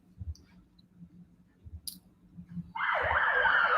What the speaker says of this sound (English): Oh, there's some sirens.